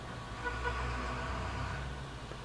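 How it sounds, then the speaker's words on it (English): Loud cars pass outside as a low, steady engine rumble heard from indoors, continuous and muffled. No one speaks. "There's loud cars outside."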